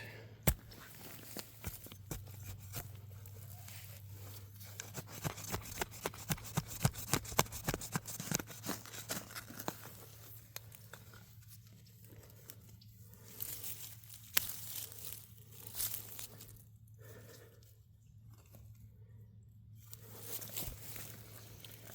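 A root is cut in the dirt while digging at an old house foundation, with scattered crunchy snips and scraping bursts, close and fairly quiet, alongside rustling soil and handling noise.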